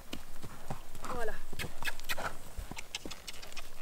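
A horse being worked in a training session, its hooves clip-clopping in an uneven walking rhythm on firm ground, close by, with a person talking over the steps.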